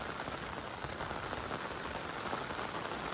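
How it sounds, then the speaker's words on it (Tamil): Heavy cyclone rain pouring down steadily, a dense continuous hiss of drops striking surfaces nearby, even and unbroken with no voices. "2 நாள் இருக்குமா மழை"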